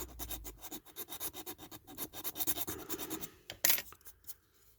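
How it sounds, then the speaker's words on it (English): Rapid scratchy strokes of a file or sandpaper work over the top of an old Dinky diecast skip truck, a quick irregular rasping rhythm heard up close with no talking. "Just want to clean that off the top there with a bit of filing or a bit of sandpaper or whatever."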